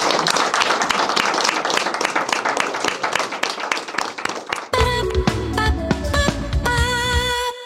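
Audience on a talk show set applauding game participants, a burst of brisk dense clapping that breaks off into a bright musical jingle.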